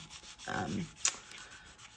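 A fingertip burnishes an adhesive Velcro dot down inside a handmade book journal, a brief soft close rubbing stroke followed by a small tap, quiet and alone.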